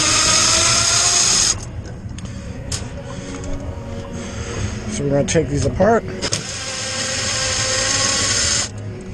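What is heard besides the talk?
power drill removing Phillips screws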